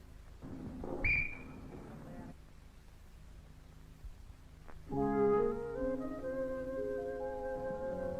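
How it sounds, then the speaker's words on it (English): A postman's short, high whistle blows once early on, followed after a pause by a steady, multi-toned sustained tone, all fairly faint. "There's the postman's whistle."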